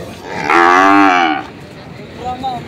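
A Red Brahman cow at a livestock auction market in Lucena gives one loud, drawn-out moo lasting about a second, close by, followed by a fainter low call amid background murmur.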